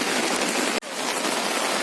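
Dense, loud rain pouring down in a continuous hiss, broken by a split-second dropout partway through.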